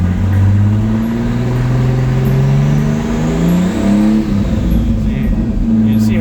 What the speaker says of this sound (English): Let's see if it revs up.